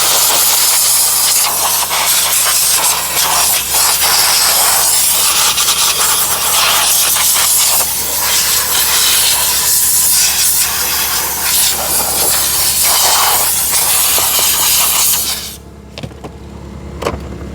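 An Aqua Pro steamer hisses steadily and loudly while steam-cleaning grime during Toyota Corolla detailing, a continuous broadband spray that cuts off near the end, leaving a quieter background.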